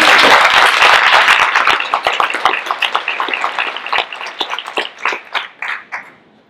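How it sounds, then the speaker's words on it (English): A crowd applauds loudly and densely, then the clapping thins out into scattered individual claps before fading away. "I want to have a round of applause for you."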